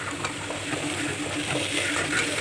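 Drumstick stalks being sautéed in a pan for a vegetarian dish, a soft steady sizzle with faint stirring scrapes.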